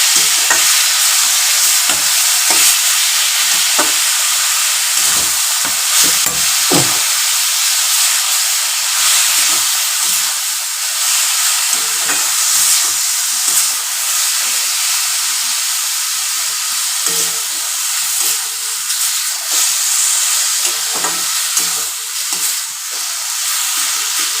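Pumpkin and potato curry sizzles loudly in a pan while being stirred, a continuous close frying hiss broken by irregular scraping and clinking of the spoon, with no talking.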